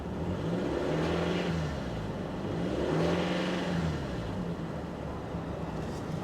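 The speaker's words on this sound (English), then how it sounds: "it sounded like when you started revving it up, it was knocking a little bit" A Nissan 350Z engine with about 48,000 miles, suspected of knocking, revs up and down in two rising swells over a steady idle, heard from nearby at moderate level with no talk.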